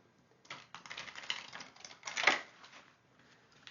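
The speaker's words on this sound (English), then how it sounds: "I always like to shuffle on screen" A deck of botanical oracle cards is riffled and shuffled by hand in a quiet room, a soft rapid flutter of card edges with a brief louder burst near the end.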